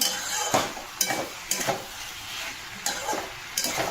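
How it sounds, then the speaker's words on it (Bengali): Vegetable curry sautéing in a pan with no onion or garlic, and a spoon scraping through it in sharp strokes about every half second over a steady sizzle, close and moderately loud. "এবার দেখো এটা আমি কষে কষে কত সুন্দর একটা তরকারি করব"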